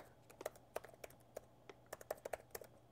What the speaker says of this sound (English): I can see myself typing on this keyboard